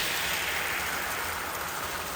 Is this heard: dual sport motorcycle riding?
no